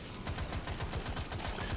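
A micro-cooker weapon fires in Deep Rock Survivor, giving a fast, even stream of low thumping pulses, roughly a dozen in quick succession, fairly quiet and unbroken by voices.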